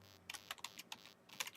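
Quick, light keystrokes on a computer keyboard: a short burst of about a dozen irregular clicks, close but quiet, with no speech.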